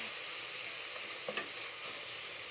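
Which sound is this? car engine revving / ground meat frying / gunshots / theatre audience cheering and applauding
ground meat frying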